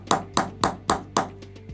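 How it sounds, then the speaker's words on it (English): Five sharp metallic hammer taps drive a suture anchor into bone during rotator cuff repair surgery, evenly spaced and close, followed by a few fainter light knocks with a steady low hum underneath. "I'm just going to give it a little tap with my hammer here if I can"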